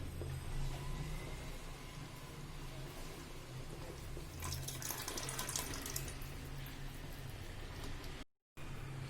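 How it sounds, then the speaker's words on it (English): Tamarind juice poured into a radish and potato Karnataka-style sambar cooking with masala, a soft steady watery trickle over low background hum, faint and continuous, with a louder splashing stretch midway and no talk. "I'm adding the tamarind juice."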